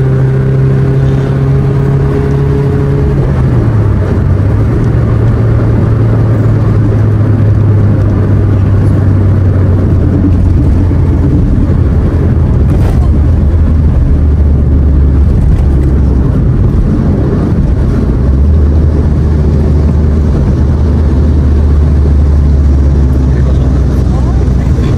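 A Soluna car's engine is driven hard after a downshift into fourth gear on a road toward a lakeside glamping site, giving a loud, continuous droning hum whose pitch sags and rises again, with steady road noise throughout.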